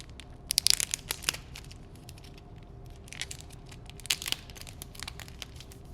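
Strips of colorful decorative washi-style tape, cut as individual pieces, peeled and pressed onto a Hobonichi Weeks planner page, giving soft crinkling and tearing bursts in small clusters, fairly close and quiet against a faint background hum.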